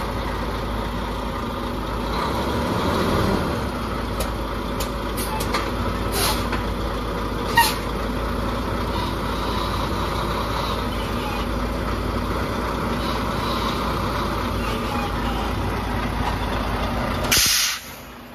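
Steady engine idle of a tractor-trailer truck during a coupling tug test, with continuous broadband air hiss throughout and a brief louder burst near the end, close and fairly loud, no talk.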